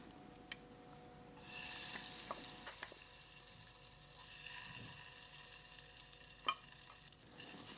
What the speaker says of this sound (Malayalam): ഇതിലേക്ക് ആവശ്യത്തിന് വെളിച്ചെണ്ണയൊക്കെ ഒഴിച്ചിട്ട് നമ്മൾക്ക് ഈ മുട്ടയൊന്ന് പൊരിച്ചെടുക്കാം